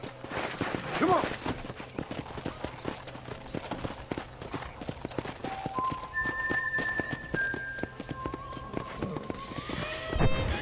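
Horse hooves clip-clop steadily in the video game Red Dead Redemption, a continuous trotting rhythm close by, with soft in-game ambience and brief tonal whistles layered over it.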